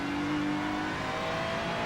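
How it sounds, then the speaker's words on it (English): A race car engine drones steadily with a thin, high turbo whine sustained over the rumble, continuous and fairly close. "you get the turbo squeal now on this car"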